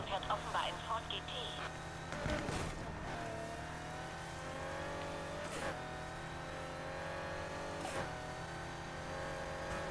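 A Ford GT engine drones steadily in Need for Speed Heat, sustained game-car engine tone with slight pitch shifts and a few whooshing passes, while someone talks over it.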